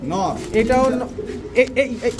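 A male pigeon of a homing breed, such as a racing homer, coos in a close, throaty, wavering burst, then gives several shorter coos, with someone talking near it.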